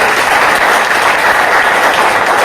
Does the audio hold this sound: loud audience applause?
yes